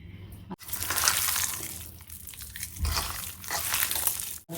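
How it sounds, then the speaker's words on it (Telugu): A few spoonfuls of water splashed into a chicken marinade, soft close wet mixing and squelching with a short pause midway. "3 స్పూన్స్ వాటర్ యాడ్ చేసామండి"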